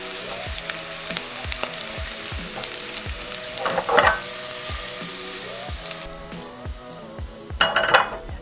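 Garlic scapes pan-roasting in oil sizzle steadily and close, while a utensil taps the pan in a regular rhythm and louder scraping stirs flare up twice.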